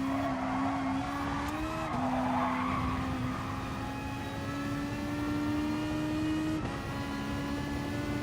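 A race car in GT Sport brakes into a corner, its tires squealing in a long sustained screech over the steady engine drone, loud and continuous throughout.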